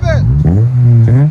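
A 2002 Acura Integra Type S with a stock engine and manual transmission, fitted with a Skunk2 cat-back exhaust, revs up loudly and close by in short rising bursts over a steady idle, with people talking over it.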